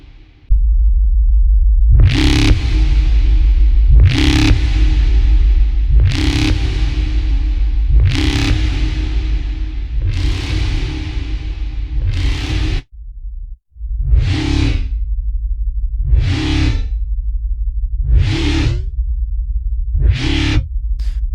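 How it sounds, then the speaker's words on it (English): A synthetic alarm tone sounds about ten times at regular intervals, each burst trailing a short reverberant tail, loud and alone. "Resulting sound here is almost a bit like a chorus effect more than a reverb."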